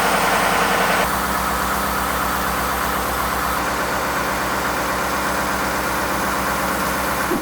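A Ford F150 5.0L V8 idles after a belt and pulley replacement, a loud, close, steady low rumble with an even pulsing rhythm and no talking.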